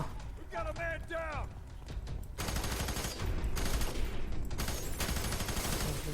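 Rapid automatic gunfire and overlapping shots from the co-op first-person shooter game F.E.A.R. 3, loud and continuous, with bursts swelling midway and a player's voice speaking briefly early on.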